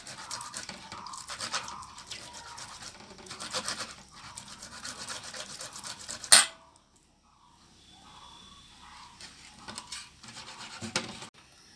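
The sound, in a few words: grating peeled mango into batter with a grater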